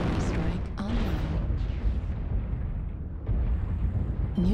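Artillery strike from the mech combat game MechWarrior Online, with a Hunchback HBK-4P mech: a continuous, loud rumbling barrage of explosions rolling together, with a voice briefly audible over the blasts.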